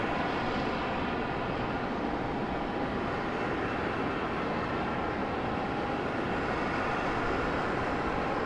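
A C-17 military transport at Raleigh-Durham International gives off a low, even engine drone at moderate distance, a constant wash of noise with a thin tone riding above and nobody talking.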